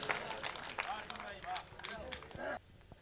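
Audience at a Hindi comic poetry gathering applauds for a poet, a dense burst of clapping mixed with crowd noise and voices that cuts off sharply near the end.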